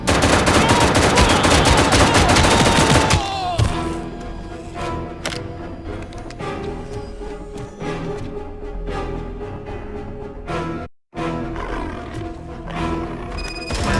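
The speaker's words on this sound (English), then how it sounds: "I am under attack from Ed 209." ED-209 robot opening fire in RoboCop: Rogue City, a loud sustained machine-gun barrage dense with rapid shots for several seconds, then giving way to quieter scattered gunshots and game ambience with a brief dropout.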